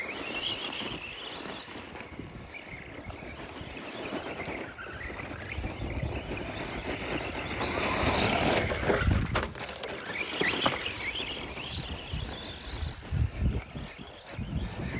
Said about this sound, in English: Running through the dirt, gotta be nice to the throttle.